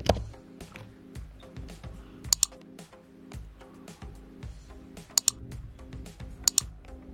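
A username is typed on a computer keyboard during a Windows 11 setup on a Mac M1/M2, producing close, irregular clicking keystrokes in quick bursts, with a few sharper, louder taps between.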